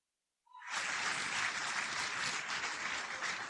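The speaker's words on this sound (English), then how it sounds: "Please give a big round of clap for each one of you." A crowd at an annual convocation breaks into applause after a brief silence, building at once into a full, sustained roar of clapping that holds steady to the end.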